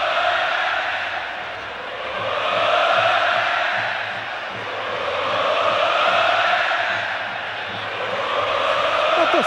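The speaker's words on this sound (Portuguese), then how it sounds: "No som da torcida." Fluminense supporters fill the Maracanã during a 2008 Libertadores match against Arsenal, a dense, steady crowd roar that swells and eases in slow waves, with massed chanting far off in the stands.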